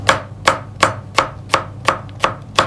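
A knife chops half a red kapya bell pepper into small pieces on a cutting board, with about eight crisp, evenly spaced strikes close up and no talking.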